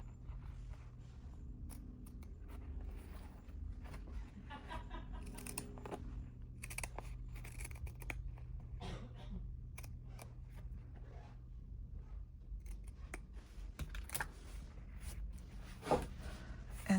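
Scissors cut fabric for a bag pocket in short, irregular snips and crunches, with soft handling rustles between them, close but quiet against a low steady background hum.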